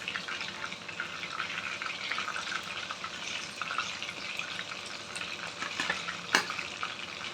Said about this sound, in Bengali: ফিরে আসছি সবকটা পকোড়া ভাজা হওয়ার পর